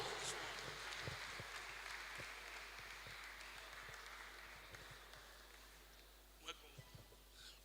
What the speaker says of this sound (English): Please, a round of applause for him as he comes forward.